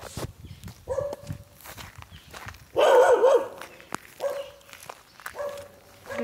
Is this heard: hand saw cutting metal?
no